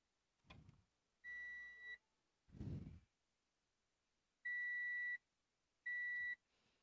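A continuity tester probing a shorted ZOTAC GeForce GTX 1060 AMP! Edition graphics card emits three clear electronic beeps of about a second each, alongside a few soft breathy noises, in a quiet room.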